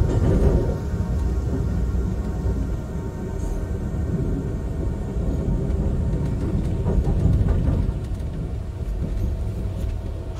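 Amtrak Empire Builder passenger train rolling across the Columbia River bridge toward Portland, a steady loud low rumble of wheels and cars with faint rattles and clanks, continuous throughout with no talk.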